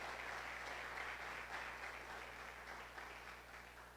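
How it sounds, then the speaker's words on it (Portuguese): A church congregation applauds during a Father's Day worship service, a steady broadband wash of clapping that holds fairly even for the whole stretch, slightly distant with a low hum underneath. "Aplauda Jesus pelos pais."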